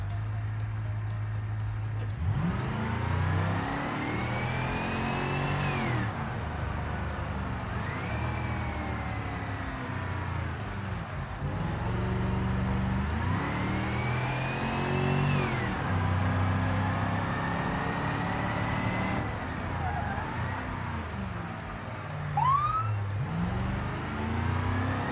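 Car simulator video game with engines revving and shifting through gears in rising sweeps, steady traffic noise and occasional tire squeal; no distinct siren stands out, and no one speaks.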